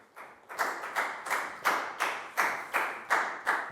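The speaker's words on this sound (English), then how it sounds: "High five and a big round of applause for Net," Children in a Year 4 maths classroom clap in rhythm, about eight evenly spaced, sharp hand claps ringing close and clear with short decays between.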